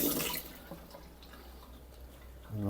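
A resin watch strap being rinsed under a cold tap: running water hisses and splashes steadily up close for a couple of seconds, alone, with a brief gush at the start and a fresh surge at the end.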